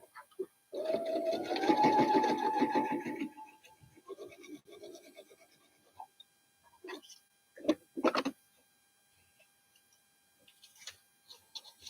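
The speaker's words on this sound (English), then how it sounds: "just shut up and sew" A sewing machine stitches fabric for a boot pattern in one brief whirring run near the start, followed by scattered soft clicks and handling noises in a quiet room.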